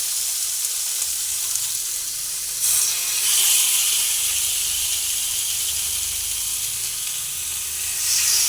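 Chicken kathi kebab skewers sizzle on an oiled pan, a steady close hiss that swells briefly as more skewers go down, with no talk.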